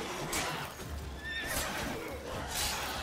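A horse in The Witcher 3 video game whinnies in repeated bursts over a low rumble of hoofbeats, close and clear.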